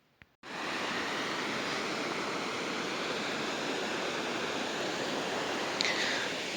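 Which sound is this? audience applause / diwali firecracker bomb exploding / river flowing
river flowing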